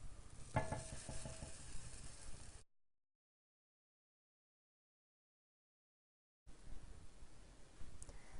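Pancakes cooking in a cast iron skillet, a soft steady sizzle with faint scraping, interrupted by a long silent gap before the quiet frying returns.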